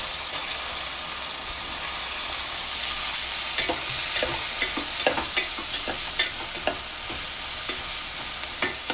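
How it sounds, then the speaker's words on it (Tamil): Vegetables, banana and curry leaves, stirred in hot oil for a prawn curry, sizzle steadily under a broad hiss, with intermittent sharp scraping clicks from the spatula throughout. "இப்போ வந்து காய் நல்லா வதங்கிட்டே இருக்கட்டும்"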